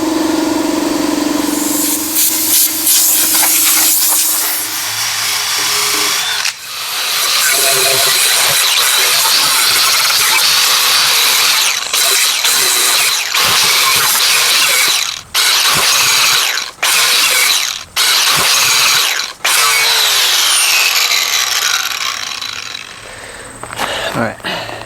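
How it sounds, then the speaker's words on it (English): Angle grinder working on the bare metal floor of an old van, a loud continuous high whine with grinding hiss, broken by several brief pauses as the tool lifts off, running alone for most of the stretch. "the angle grinder, I was able to get this pretty clean"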